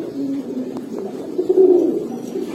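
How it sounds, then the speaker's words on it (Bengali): Homa pigeons coo inside a room, a soft, low, throaty burbling that rises and falls, swelling a little louder near the middle, with a couple of faint clicks and no voices. "কবুতরের ডাকে দর্শক বুম বুম বুম বুম শব্দ হয়ে গেছে"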